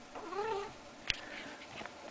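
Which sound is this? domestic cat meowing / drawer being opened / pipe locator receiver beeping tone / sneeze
domestic cat meowing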